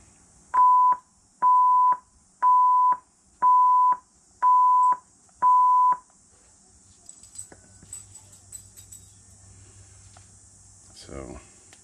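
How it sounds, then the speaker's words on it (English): Six long, steady electronic beeps from a KS16X Bluetooth device during a firmware update, in an even rhythm, each lasting about half a second, followed by quiet background rustling and a brief noise burst. "the firmware makes 6 long beeps in the sound"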